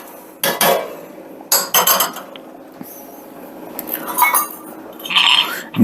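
Rice is stirred into a pot of boiling water, giving clattering clinks and knocks of a utensil against the pot in short bursts, with a faint bubbling wash between them and no speech.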